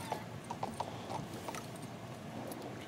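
A horse's hooves clip-clop in uneven, fairly quick steps in the fantasy game King's Bounty 2, moderately close, with faint mechanical ticking behind and no voices.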